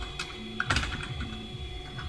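Quiet typing on a computer keyboard, a few scattered key clicks and short bursts spread irregularly over about two seconds, with no talking.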